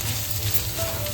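Onions sautéing in a pan with kasuri methi for a paneer biryani gravy, giving a close, steady, bright sizzle without pause.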